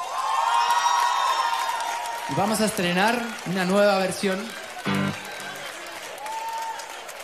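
Live audience applause and cheering at a LOS40 Básico acoustic concert, a steady wash of clapping and whoops that runs beneath someone speaking into a microphone and continues after he stops.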